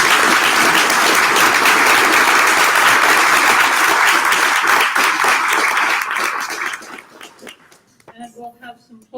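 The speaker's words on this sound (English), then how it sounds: "I think we should give the candidates a round of applause." Loud, dense audience applause at a 2019 Plainfield Board of Education candidates forum, sustained for several seconds before tapering off as a speaker begins talking.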